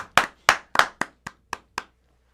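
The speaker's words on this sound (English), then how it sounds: "Big round of applause." A few people clapping for a general manager, seven distinct close hand claps in a slowing, uneven rhythm with silence between them, trailing off into quiet.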